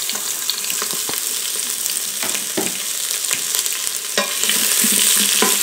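Chopped bacon, onion and garlic sizzle steadily in an Instant Pot, a dense close crackle broken by sharp scraping stirs and clicks, with no talking.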